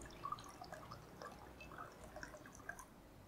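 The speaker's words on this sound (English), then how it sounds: "And you pop your water in." Water poured into small cups for a capillary action experiment with food colouring, a faint soft trickle with a few light drips, quiet and close.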